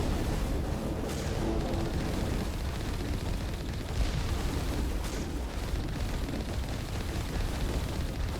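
A missile explosion in Mass Effect roars as a dense, sustained rumble, with a few sharper bursts rising out of the continuous blast noise, loud and close.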